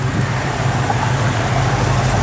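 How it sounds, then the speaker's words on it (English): A 1970 Dodge Challenger convertible with a three-inch exhaust idles nearby, giving a steady, low, rumbling drone with no voices over it. "Three-inch exhaust just rapping to you."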